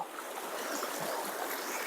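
Someone wades through a stream in a dense forest, with a steady close rush and splash of moving water throughout.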